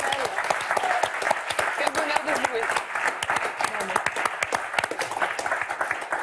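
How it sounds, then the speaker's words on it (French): Studio audience on a French word-game show clapping steadily for the contestants, a dense run of close handclaps lasting the whole stretch, with the host's voice breaking in over it. "on va vous applaudir très fort"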